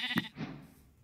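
A single short sheep bleat from a Minecraft sheep, close and clear, with a sharp onset and a quick fade into quiet.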